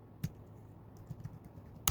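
Brief burst of typing on a computer keyboard, a handful of crisp close keystrokes with two louder clacks at the start and end, nothing else around them.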